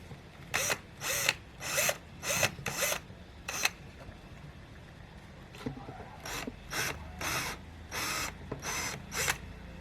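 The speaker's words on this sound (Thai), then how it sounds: "ทีนี้เราขันสกรู จากฝั่งนี้ไปครับ เจาะนำช่วยนิดหน่อยนะครับ" A power drill whirs in about a dozen short, close bursts, pausing briefly between each as large screws are driven into pilot holes in the wood of a kitchen spoon drawer.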